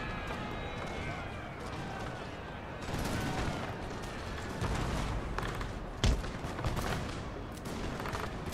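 Napoleon: Total War battle din of musket volleys and cannon fire, dense crackling gunfire that swells and rolls continuously, with one sharp louder report near the end, fairly close and busy.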